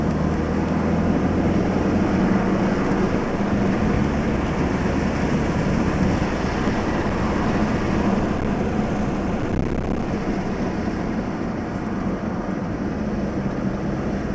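A car drives along a mountain road, its engine and road rumble forming a steady, close, continuous drone with no talk.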